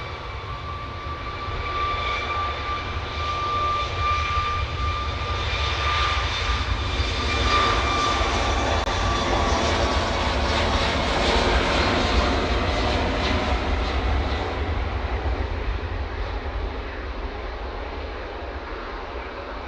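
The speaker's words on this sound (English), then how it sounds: "Here's the Ryanair, just started the roll." A Ryanair jet at Manchester Airport begins its takeoff roll, engines building into a steady, loud roar with a high whine on top, rising in strength midway and sustained without talk.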